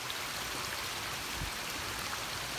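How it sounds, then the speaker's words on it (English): A creek on the Appalachian Trail near Dalton flows with a steady, even rush of water that stays close and continuous throughout. "I just came down the hill and crossed this creek right here. It's really pretty. Love the sound."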